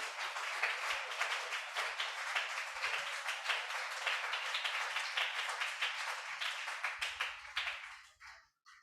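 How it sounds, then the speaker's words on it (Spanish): A church congregation applauds for God during a sermon, a steady burst of many hands clapping close by that holds for several seconds and then thins out to a few scattered claps and quiet. "dele aplauso a Dios"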